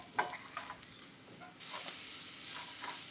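Potatoes frying with mint and coriander are stirred in a pan, a few light scrapes and clicks at first, then a louder, steady sizzle that carries on alone.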